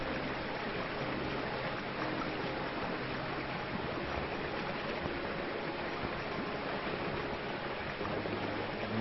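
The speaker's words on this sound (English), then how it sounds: "Chanzama Falls." Chanzama Falls on Mulanje Mountain in Malawi, a waterfall feeding the Chanzama River, pours in a steady, dense roar of rushing water that holds constant and loud throughout, with no voices over it.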